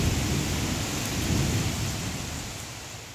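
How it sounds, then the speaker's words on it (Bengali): A heavy downpour pounds down with thunder, a loud, dense, unbroken roar of rain under deep rumbling that swells and then slowly eases. "মুষলধারে বৃষ্টি শুরু হয়েছে।"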